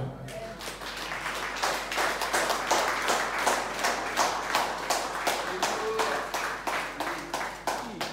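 A church congregation claps in steady rhythmic unison during a sermon, a long run of sharp, evenly spaced claps with a faint murmur beneath.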